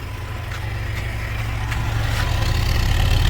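A car engine runs with automatic transmission fluid poured into it, giving a steady low idling hum that grows gradually louder, with no other sounds over it.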